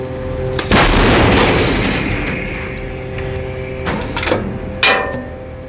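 A sharp, powerful blast from a Bohdana self-propelled howitzer fired by Ukrainian National Guard artillerymen bursts out and rolls into a long rumbling echo, followed by a couple of fainter distant thuds.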